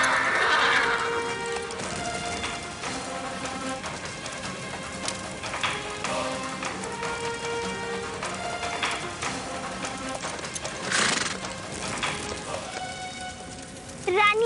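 A horse neighs in a burning setting, its whinny near the start, against a steady rain-like wash and busy dramatic background sound that fills the clip.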